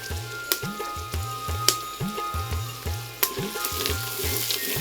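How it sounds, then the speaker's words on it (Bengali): Onions fry in a pan with bay leaf, green and black cardamom and cinnamon for a sour mutton rice dish. A steady sizzle runs under a regular rhythm of stirring scrapes, about a dozen strokes close up, with no talking. "এই পেঁয়াজ প্রায় কষাই নেওয়া গেছে"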